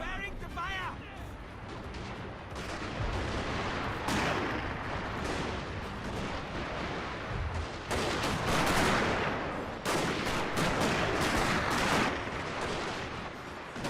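Musket volleys from kneeling troops in the Fall of the Samurai strategy game, a dense run of overlapping gunshots and booming fire across the whole stretch, with a voice talking over the battle noise.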